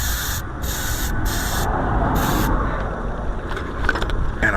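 Brake cleaner sprays in several short hissing bursts over brake parts on a Dodge Ram Van B2500 wagon, then a rag rubs and wipes steadily. The sound is close, with a constant broadband rush and no talking.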